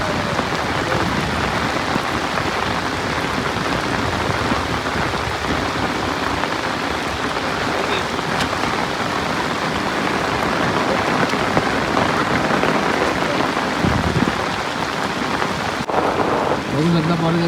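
Heavy first-monsoon rain pouring steadily at a crowded riverbank, a dense hiss of drops on surfaces throughout, loud and close, with faint distant voices now and then.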